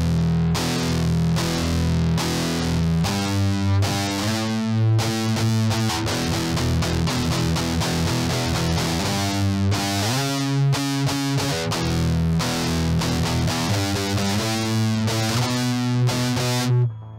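Distorted electric guitar played through an effects pedal straight into an audio interface, with no amp or cab, strumming chords continuously and loudly for the full stretch, dense and buzzy with no voices.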